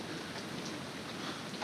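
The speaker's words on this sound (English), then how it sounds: "it is raining pretty good" Heavy rain patters onto the roof of a converted school bus and a tarp stretched over it, a dense, even hiss of drops close by with no talking.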